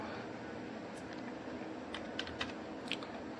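A number is entered on a computer keyboard as a few faint, sparse key taps over a steady low background hum, with no one talking.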